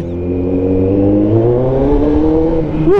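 A Kawasaki ZX14R motorcycle fitted with a new exhaust revs up close and loud, its engine note climbing steadily in pitch over a few seconds with no one speaking.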